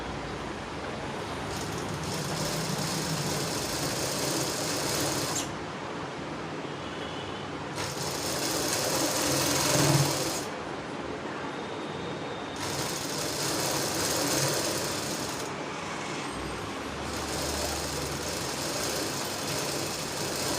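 A sewing machine stitches fabric in a double line at a beginners' tailoring lesson, making a steady mechanical whir in several runs broken by short pauses, at a moderate, close level.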